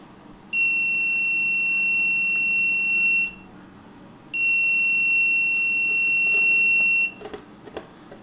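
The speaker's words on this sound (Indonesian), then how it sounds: "buzzer berbunyi seperti ini" A radio-controlled vehicle's overload warning buzzer sounds a steady electronic tone for about three seconds, stops, then repeats for another three seconds, loud and unbroken, with faint clicks afterward.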